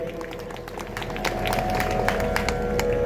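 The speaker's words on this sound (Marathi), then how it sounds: "यांच्यासाठी जोरदार जरा टाळ्या सुरुवातीला होऊ देत." Audience clapping for the performing artists at a devotional music program in a Swami math, a steady wash of applause building slightly over a few seconds with a faint musical drone underneath.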